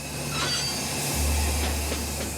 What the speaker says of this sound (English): He can feel the train losing speed.